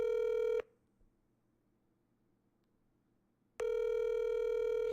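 An outgoing phone call ringing: a loud steady electronic ring tone sounds, breaks into about three seconds of near silence, then resumes just as loud, heard close with no talking.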